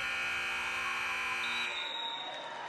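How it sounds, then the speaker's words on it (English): A shot clock violation buzzer at a women's college basketball game between SMU and Houston, a sustained electronic tone over arena noise that cuts out after about two seconds. "I think a foul was called just before the shot clock violation buzzer sounded."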